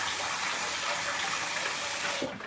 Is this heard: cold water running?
yes